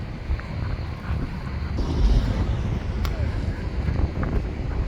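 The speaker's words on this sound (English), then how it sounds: "It's so windy." Strong wind blows at Hurghada, Egypt, buffeting the microphone with a constant roar and gusting louder partway through, while faint background noise sits underneath.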